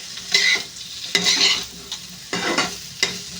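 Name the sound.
potatoes with chilli powder stir-fried on high heat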